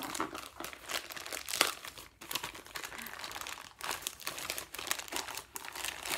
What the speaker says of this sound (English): There's just one in here, I believe. So let's rip it open.